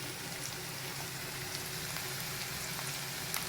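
Onion fries in oil until red, giving a soft, continuous sizzling hiss with faint scattered crackles, quiet and steady throughout.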